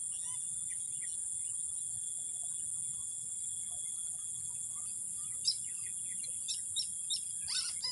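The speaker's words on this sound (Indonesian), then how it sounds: "Burung pun banyak sekali teman-teman itu." Birds sing over rice fields in Samarinda Utara, Indonesia, with scattered faint chirps and calls growing busier toward the end above a steady high insect drone and low outdoor hum.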